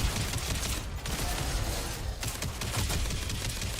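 Rapid video-game gunfire from Mass Effect Legendary Edition (Mass Effect 2), fired at a downed teammate to revive them: a dense, steady barrage of loud shots and impacts filling the whole stretch with little pause.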